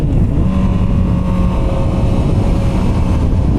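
A Honda CBR650R inline-four sings at high revs on a twisty road, a loud, sustained engine howl heard from the rider's seat with wind noise mixed underneath.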